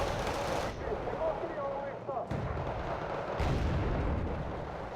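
Bombs from an air strike in the video game Wargame: Red Dragon burst in heavy, rumbling blasts, a few dull booms layered over continuous battle noise and distant gunfire.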